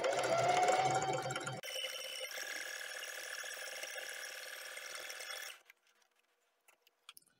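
A sewing machine stitches a zigzag along the edge of a piece of fabric, whirring steadily at close range for several seconds before stopping abruptly, followed by a few faint taps in near silence.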